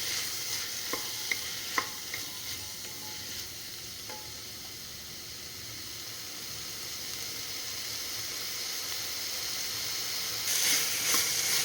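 Potatoes with other ingredients sautéing in a pan while making white pulao, a steady low sizzle with a few stirring clinks early on and a brighter hiss rising near the end, no talking.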